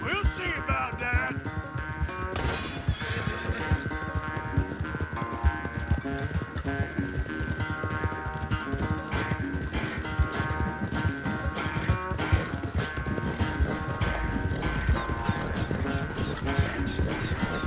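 A horse gallops in a race in the video game Red Dead Redemption 2, steady rapid hoofbeats running throughout under a continuous musical score, with no pause in the rhythm.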